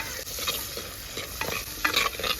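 Crushed garlic sautés in a pan with a steady close sizzle, stirred with a few scraping strokes that grow busier toward the end.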